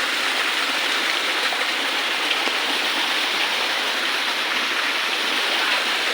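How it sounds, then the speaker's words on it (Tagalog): A waterfall and mountain stream on Mount Banahaw in Quezon province pour as a continuous, even, bright rush of water, steady and moderately loud with no voices. "yung mga buhay na tubig dito sa Bundok Banahaw"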